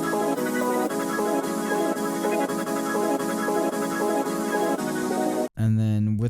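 The original Space Starship sample plays as a dense, bright synthetic loop with a repeating sweeping figure, loud and continuous, cut off near the end by a brief gap and a short voice.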